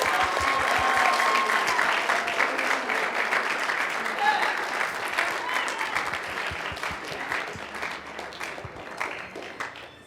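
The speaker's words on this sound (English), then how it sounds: "Awesome, round of applause." A room of people gives a sustained round of applause and cheering for a Navy enlistment signing, dense and loud at first, then slowly tapering off over ten seconds as scattered claps remain.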